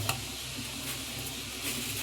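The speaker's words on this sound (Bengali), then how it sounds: "রসুনটাকে ভালোভাবে ভেজে নেবো" Garlic frying in a pan for a chicken butter garlic dish, a constant soft sizzle with light stirring scrapes and a low hum underneath.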